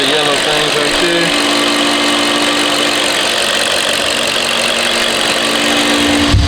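A BMW 540i engine idles steadily right after new fuel injectors were fitted, a close, continuous mid-pitched hum with faint knocking texture running throughout, loud and alone with no talk.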